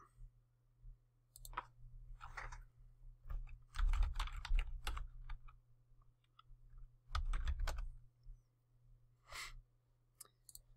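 Bursts of typing on a computer keyboard while logging into a UniFi Security Gateway over SSH, quick clicking keystrokes in uneven clusters with pauses, close and fairly quiet, with occasional breaths.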